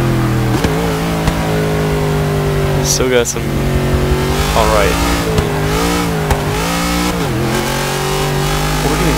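A Cadillac limousine's engine revs and rises in pitch in the Forza 6 racing game, a steady mid-pitched drone with repeated swells, heard under a player's voice speaking briefly.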